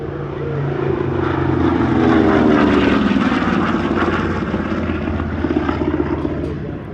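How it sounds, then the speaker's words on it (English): A TBM Avenger propeller aircraft flies past at the Airshows Downunder Shellharbour 2024 airshow, its loud, steady engine drone swelling and then easing slightly over the clip, with no talking. "Here's more from the TBM Avenger, which was one of several acts contributed by the Paul Bennett Airshows collection."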